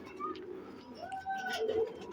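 Blue-eyed pet pigeons give a few low coos and short calls, close by and fairly quiet, with a faint voice in the background.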